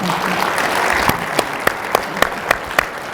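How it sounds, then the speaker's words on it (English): Applause for a guest at a county officials' fall conference forum, a steady wash of clapping that thins out into a few scattered, sharper claps near the end. "let's give a round of applause for our guest here this morning"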